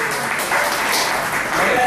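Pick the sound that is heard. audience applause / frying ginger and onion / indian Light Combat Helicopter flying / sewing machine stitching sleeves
audience applause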